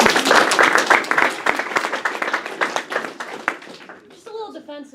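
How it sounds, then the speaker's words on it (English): Audience applause after a speaker's introduction, dense close clapping that thins out and fades, with a voice starting to talk at the end. "her a round of applause."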